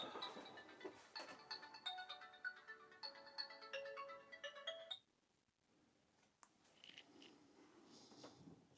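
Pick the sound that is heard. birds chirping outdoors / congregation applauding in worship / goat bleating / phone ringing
phone ringing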